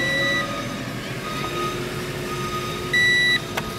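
Two short, steady electronic beeps sound clearly over a low vehicle rumble, spaced a few seconds apart like a reversing alarm.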